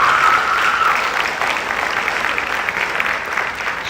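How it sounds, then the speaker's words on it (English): An audience at a ninth-grade family orientation evening applauds, a steady wash of clapping that starts strong and thins a little as it goes on. "Give Ms. Blunt a big round of applause."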